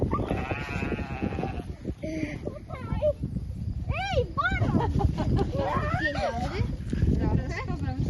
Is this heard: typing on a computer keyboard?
no